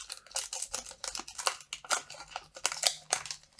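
Paper packaging of a Secret Lair card set being torn and opened up close, a quick run of crisp rips, crinkles and rustles in irregular bursts.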